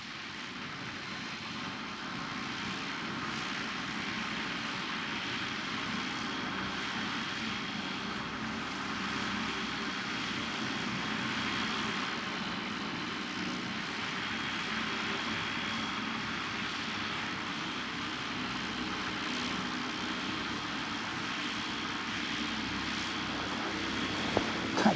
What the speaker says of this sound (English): there's John in his, I assume it's John, in his very nice Eurostar